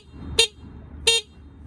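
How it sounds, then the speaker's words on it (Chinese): Two short, bright honks from a Niu MT electric scooter horn, loud and close, each lasting about a fifth of a second and spaced roughly 0.7 seconds apart over a quiet low background. "这个是滴滴嘛，它这个滴滴啊，跟摩托车一样响"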